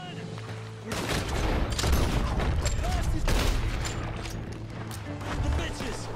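A heavy gunfight in the video game Red Dead Redemption 2, set in a canyon: dense, continuous volleys of rifle and pistol shots with sharp cracks and booms, loud and close throughout, with voices mixed in.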